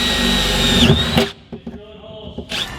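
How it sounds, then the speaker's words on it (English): A power drill whines at high speed drilling holes in a car floor, then winds down and stops, followed by a few clunks and a short burst of drilling at the end. "I'm just drilling holes"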